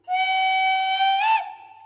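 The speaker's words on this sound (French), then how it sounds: "On va commencer déjà par un sifflet." A Roco model locomotive, La 230 F 607, sounds a clear sustained steam-style whistle lasting over a second, bending slightly in pitch near the end before tapering off, loud and alone.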